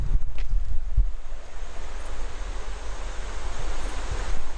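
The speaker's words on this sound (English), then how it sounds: "So the river, or part of the river, comes right in through here and makes a bend" Broad rushing water of a river flowing through a bend past a washed-out road, steady and close, with wind buffeting the microphone and a few low thumps at the start.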